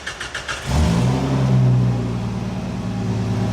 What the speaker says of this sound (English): OJ, it basically sounds like a Lamborghini now, right?